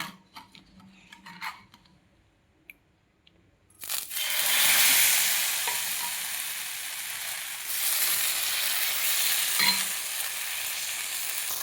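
Uttapam batter poured onto a hot pan starts a sudden loud, hissing sizzle after a few quiet seconds, then keeps crackling steadily and close up until the end.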